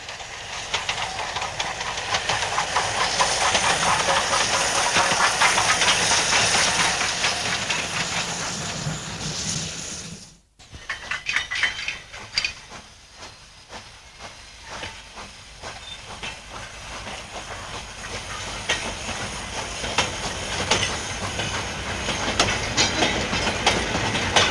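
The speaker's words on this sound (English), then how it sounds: "Oliver Cromwell then ran light to Bressingham Steam Centre to retire from active service." The steam locomotive Oliver Cromwell runs light without a train, a long stretch of hissing steam and rolling wheel clatter, loud at first, briefly cut, then a steadier rhythmic clickety-clack passing along the line.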